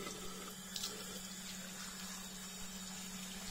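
Warm water runs from a tap onto brushes at a sink, a steady faint splashing stream that holds evenly throughout with a soft background hum.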